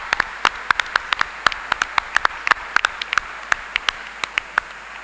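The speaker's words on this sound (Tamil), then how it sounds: "இந்த வயதிலும் இவ்வளவு சுறுசுறுப்போடு இருக்கிற ஐயாவுக்கு ஒரு பெரிய கைத்தட்டல் கொடுத்து நீங்க பாராட்டலாம்" Audience at a KPC annual day claps for an elderly guest; many sharp, sparse individual hand claps ring out across the hall rather than a dense roar, no voices heard.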